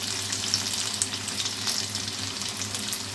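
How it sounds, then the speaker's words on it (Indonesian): Banana fritters (pisang goreng) frying in hot oil give off a steady, dense sizzle and crackle, close and continuous with no talking. "Goreng sampai golden brown ya."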